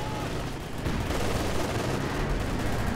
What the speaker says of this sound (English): Sector artillery.